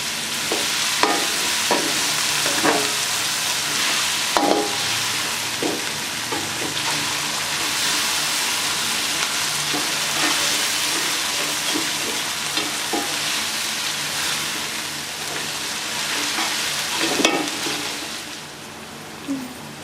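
Green chilies fry in a hot pan with a loud, steady crackling sizzle, and a spoon taps and scrapes through them again and again.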